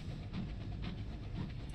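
A steam train locomotive running in the video game Sunless Skies, a steady low rumbling chug with faint rhythmic hissing pulses, quiet and continuous.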